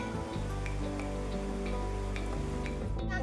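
Rain falls on an unpaved dirt road, a steady close hiss of drops with scattered brighter patters, while a low humming drone runs continuously underneath.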